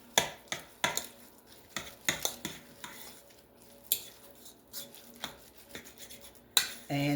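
Turkey burger meat being stirred and mixed in a bowl with soup and seasoning, giving scattered wet scrapes and utensil clinks against the bowl, close and fairly quiet, with no talking.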